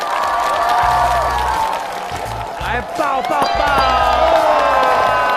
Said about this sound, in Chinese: 帮大哥们鸡翅再次掌声鼓励